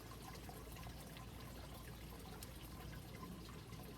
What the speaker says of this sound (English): I'm going to go ahead and start the sparge and get this over with